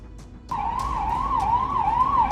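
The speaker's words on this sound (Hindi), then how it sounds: "रात के अंधेरे में सन्नाटे को चीरती हुई सायरन एक बार फिर अनंतनाग को दहशत दे गई।" An emergency siren wails at night in Anantnag, starting abruptly and cycling up and down steadily over low background rumble, close and loud.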